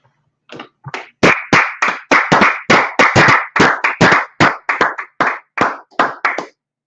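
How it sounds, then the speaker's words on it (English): Loud rhythmic clapping in unison, about twenty sharp claps in a steady beat, close by with no talking. "let's clap it up"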